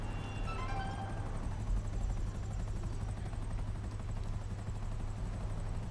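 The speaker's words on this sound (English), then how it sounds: "Oh shit, it was a police helicopter" A police helicopter in the video game GTA 5 hovers nearby, its rotor giving off a steady, low, pulsing drone that continues evenly and alone throughout.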